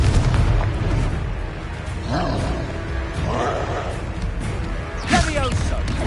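Confringo fire-spell blasts in the video game Hogwarts Legacy, booming impacts and rumbling roars layered over dense combat noise, with a sharp burst standing out near the end.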